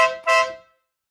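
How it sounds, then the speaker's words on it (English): A loud air horn sounds inside a barn that stores tile saws and compressors, two harmonic blasts, a short toot then a fuller one, fading out quickly with no talk. "Or you can hit the air horn."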